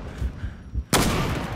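A CheyTac sniper rifle fires once in the online shooter Zula: a single sudden, loud crack that rings out into a sustained tail after a quieter stretch of low background noise.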